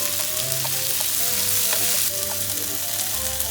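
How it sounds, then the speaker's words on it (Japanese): Konjac stir-fried over high heat in a pan, a loud, steady sizzle and crackle that runs throughout with a few light stirring scrapes. "強火でこんにゃくに焼き目がつくまで"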